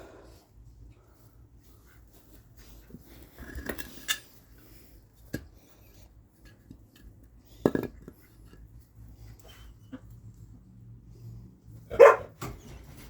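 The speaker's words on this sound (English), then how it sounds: "My dog's over here trying to get in." A farm dog trying to get in makes a few scattered, brief sounds, with sparse scratches and knocks and a short bark or whimper near the end, set against quiet surroundings.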